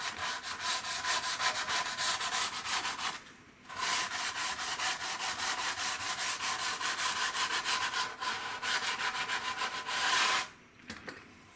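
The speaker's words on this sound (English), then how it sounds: "I use one of these foam sanding blocks, and I'll just take some of the sharpness off the fret ends." A foam sanding block rubs back and forth against the fret ends of a Glarry Telecaster electric guitar in fast, steady strokes, close and scratchy, pausing briefly twice before resuming.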